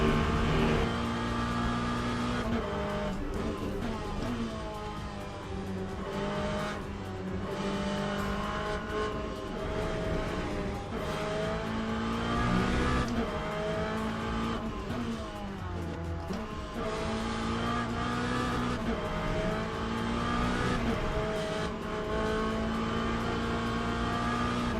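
A Corvette in a sim-racing video game roars as its engine revs up and down through gear changes, loud and continuous with rising pitch sweeps and brief drops between shifts for the whole stretch.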